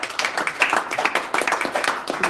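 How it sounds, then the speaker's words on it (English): At a board of trustees meeting, an audience applauds an honoree recognized for 25 years of service, with dense, lively clapping throughout a short burst. "Clap for the man."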